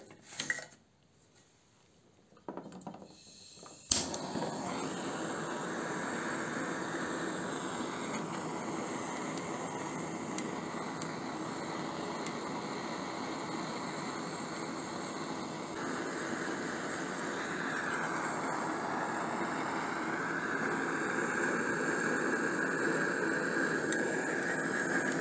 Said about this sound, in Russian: Испытывать буду при помощи газовой горелки.